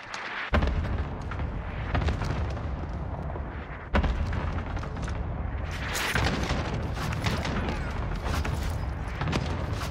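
Artillery strike in the video game Warzone, heard as a dense, sustained barrage of heavy booming blasts and rumbling explosions that continues almost without a break.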